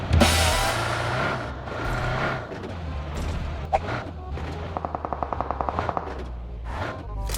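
Gunfire in the mobile game PUBG Mobile, with bursts of rapid automatic fire including a crisp fast rattle near the end, plus single shots over a rumbling vehicle-like background.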